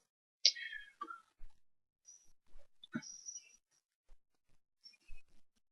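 Computer mouse clicking while working in production management software, a few sharp isolated clicks spread over quiet pauses, with faint soft sounds between them.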